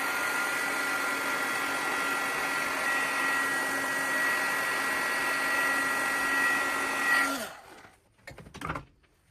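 An embossing heat tool melts embossing powder on a craft surface, blowing a steady, loud whirring hiss with a faint hum that cuts off near the end, followed by a few quiet rustles.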